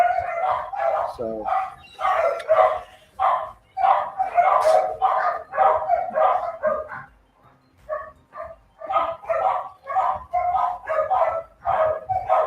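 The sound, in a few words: dogs barking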